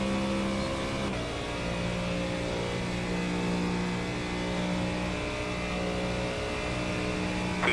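GT3 race cars lapping at Daytona International Speedway during an IMSA session, engines droning loud and steady with a sustained throttle note and passing whine throughout, no talk.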